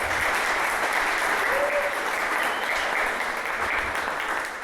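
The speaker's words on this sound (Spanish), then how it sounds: "Denle un aplauso al Esteban." Sustained applause from a church congregation honouring a young man named Esteban, a dense, even wash of many hands clapping that holds steady for several seconds before easing slightly at the end.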